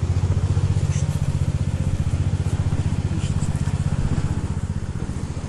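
A small outboard boat motor runs steadily out on a lake, giving a loud, continuous puttering chug close by throughout.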